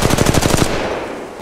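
Rapid automatic gunfire from the Apex Legends Mobile video game rattles out in a quick burst of evenly spaced shots, then cuts off into a fading tail.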